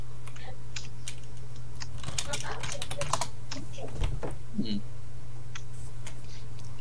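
Rapid clicking of computer keyboard keys during a cops-and-runners gaming session, scattered and fairly close, with a voice talking over it and a low steady hum underneath.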